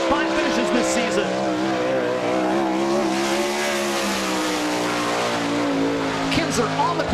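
A World of Outlaws sprint car howls through a qualifying lap at Ohsweken Speedway, its engine a loud, sustained drone with rising and falling pitch, steady and close throughout.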